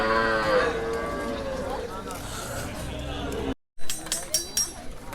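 A cow at the Hozrotpur cattle market gives a long, loud moo, followed by crowd chatter and voices talking in the background after a brief cut.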